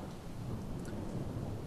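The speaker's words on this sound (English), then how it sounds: "it's been a rainy few days in-game here" Rain falls in the zombie survival game Project Zomboid, a brief, even wash of hissing rainfall with a faint low rumble and no other sounds.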